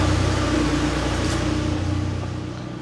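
A 1985 Porsche 911 Carrera engine idles steadily up close, a smooth low hum with an even, fine pulse that holds without revving and fades slightly toward the end.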